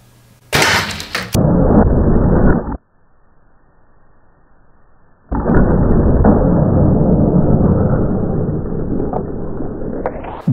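A heavy 760-grain arrow from a bow strikes a cinder block with a loud, close impact crack, followed by a sustained broadband roar that drops out briefly and then returns strong for several seconds.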